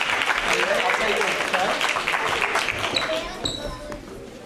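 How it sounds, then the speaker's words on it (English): Audience applause at a young composers' concert, a dense wash of clapping that fills the whole stretch before thinning slightly toward the end, with voices mixed in. "can I please give a big round of applause for Mr. Adam Kroll?"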